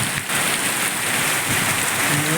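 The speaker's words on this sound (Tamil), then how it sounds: "இது மழை காத்துங்க காத்துக்கு ஈக்கோட மழை பெஞ்சுக்குது" Heavy rain driven by strong wind in the Salem area, a steady loud broadband wash of downpour filling the whole moment without a break.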